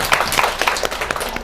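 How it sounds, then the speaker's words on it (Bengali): Students at a school event applauding a correct quiz answer, a quick burst of clapping from a small group of hands, moderately close and brisk with no voices over it. "একদম সঠিক উত্তর, হাততালি হবে।"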